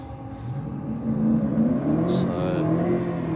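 A Ford BA Falcon drag car launches from the line at a no-prep drag strip, its engine note climbing and revving hard up close, while a commentator talks over it.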